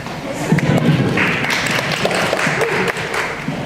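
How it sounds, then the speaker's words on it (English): An audience applauds during a Harry Potter celebration Q&A event, a steady wash of clapping from a crowd with scattered thumps, mixed with some voices. "you've got to clap for that"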